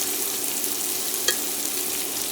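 Lobster tails sizzling in oil in an oven pan, a steady close hiss with a brief sharper crackle midway, no talk.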